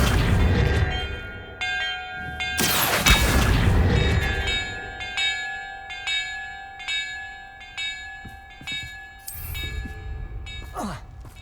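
Bells ringing in the Hogwarts Legacy video game: resonant chimes struck one after another, each tone ringing on and overlapping the next, after a heavy rumbling burst near the start.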